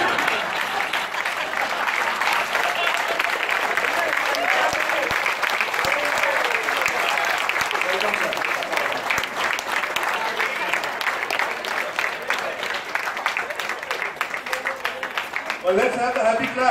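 A Rotary club audience gives a rhythmic group happy clap during a comedy skit, loud and sustained with voices mixed in, ending in a brief burst of clapping.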